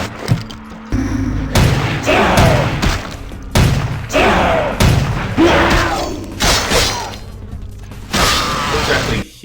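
Rapid bursts of video game gunfire, loud and close, sounding as a series of sharp shots and thuds in uneven clusters with short gaps between them.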